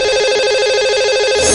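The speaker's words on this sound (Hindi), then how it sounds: "तो चलिए लगाते हैं अब हम कॉल।" Telephone ringing as a caller is dialed in on a live television show, a loud steady electronic ring tone with a rapid warbling pulse, heard alone and unbroken throughout.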